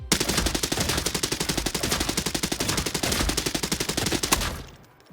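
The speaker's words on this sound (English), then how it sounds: "The Uzi is also getting a unique attachment with a new 50-round drum mag." An Uzi with a 50-round drum magazine fires one long continuous full-auto burst in Arena Breakout: Infinite, rapid and loud, ending abruptly with a short tail after about four and a half seconds.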